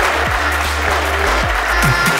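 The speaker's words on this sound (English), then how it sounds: "Valtteri Bottas, let's hear it for him" Dense, steady applause from an audience after an introduction with Valtteri Bottas, loud and continuous without a break, with low thumps running underneath.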